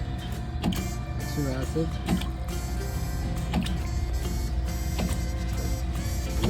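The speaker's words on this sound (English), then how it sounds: "Mixer mixing very nicely." Mixer churning liquid in a pH neutralization tank, a steady loud mechanical drone and wash with brief knocks, while a person speaks over it.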